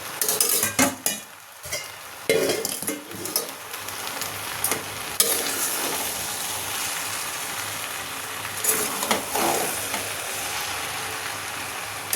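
Sago is stirred into a hot spiced mixture in a pan, with loud scraping strokes and clatters over a constant frying sizzle, busiest at the start and settling into a steady hiss.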